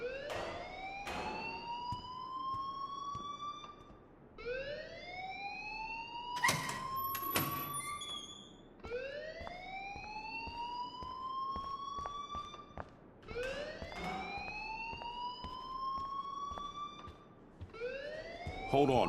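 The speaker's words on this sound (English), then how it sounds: "please turn off that alarm since that's your job" A wailing electronic alarm in the video game Life is Strange, its rising siren tone sweeping up repeatedly in loud cycles of about four seconds, with a brief clatter partway through.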